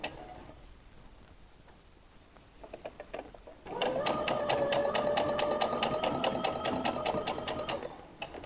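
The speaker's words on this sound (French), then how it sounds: "Vous allez doucement pour être sûr de bien coudre au bord." A sewing machine stitches along the hem of a summer dress, starting with a few slow ticks before running steadily for about four seconds with a rapid, rhythmic mechanical whir, then stopping.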